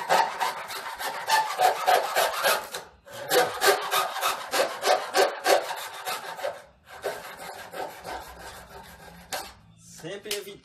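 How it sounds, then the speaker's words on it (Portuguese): A hand saw cuts through PVC sewer pipe, steady back-and-forth rasping strokes in rhythmic runs with short pauses between, close and loud, with occasional talk. "Vou tirar mais um pedacinho do tubo, sempre utilizando a serra."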